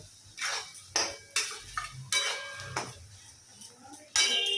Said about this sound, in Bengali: সামান্য একটু হলুদ দিলাম। দিয়ে এটা একটু মিশিয়ে নেব।